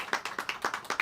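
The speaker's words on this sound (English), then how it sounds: "Clap it up, y'all." A live business event audience claps in a quick, even rhythm of distinct claps, faint and somewhat distant.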